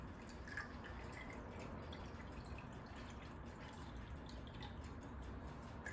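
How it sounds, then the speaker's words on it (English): Water dribbling through a Land Rover Discovery 2 (2002) thermostat after being poured in at the top, a steady soft trickle of drips against a constant low background hiss, fairly faint and close. "there is a dribble of water"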